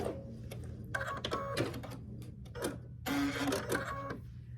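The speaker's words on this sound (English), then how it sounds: "I'm starting by sewing these half square triangles" A sewing machine stitches half square triangles into quilt squares in short bursts of quiet, rapid mechanical whirring separated by brief pauses, close and fairly soft.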